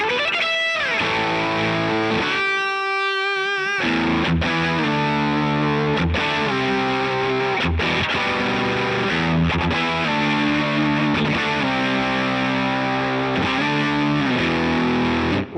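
Electric guitar played through a Walrus Audio Fundamental distortion pedal set to LED clipping, loud and saturated, with a scraped or tremolo-picked burst early on, then sustained driven chords and riffs ringing continuously without speech.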